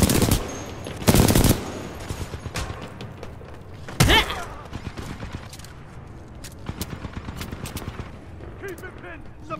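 Suppressing gunfire in the video game Titanfall 2, loud bursts of automatic weapon fire with heavy shots and rapid rattling, mixed with game effects and occasional talk.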